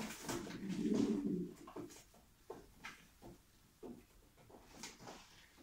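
A racing pigeon coos in one low, rolling burst early on, presented at the MWG Kaszuby 2019 pigeon auction. Quieter ambient clatter follows, with no talk.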